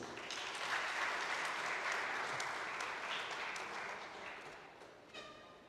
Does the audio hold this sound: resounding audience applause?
yes